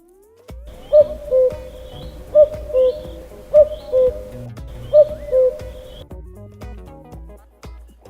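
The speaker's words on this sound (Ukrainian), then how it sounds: "Зозуля літала, літала, свою пісеньку співала, співала, для дітей голосно кувала." A cuckoo calls four times in a classroom counting game, each clear two-note cuckoo call evenly spaced and loud against a quiet room.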